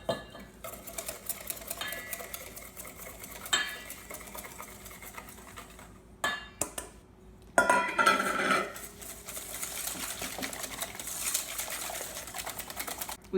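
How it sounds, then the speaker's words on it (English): A whisk working sugar and flour into buttermilk chess pie filling in a bowl, with continuous rapid scraping and tapping, a brief pause, then a louder burst of vigorous whisking before settling into steady strokes. "now we're going to whisk in the dry ingredients here, which is mostly sugar, but also some flour."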